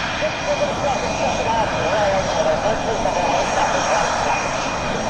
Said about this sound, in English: Bringing on the Spanish F-18 display.